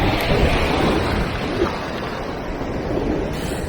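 Small ocean waves wash gently onto the shore at low tide, a soft continuous surf hiss with light wind noise close to the microphone.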